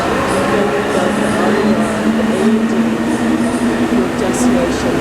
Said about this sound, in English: now that's the Metro, number 1 Metro. That is that's the oldest and the busiest Metro line.